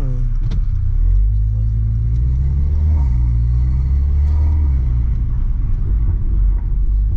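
A car engine rumbles deeply at idle nearby, with a few revs rising and falling over the low growl.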